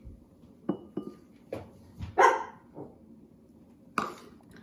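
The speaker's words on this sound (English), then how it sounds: "And that's my mom's dog, Bella, Eli." A dog barks several times in a home kitchen, sharp and fairly close, amid the clink of a lid and dishes being handled.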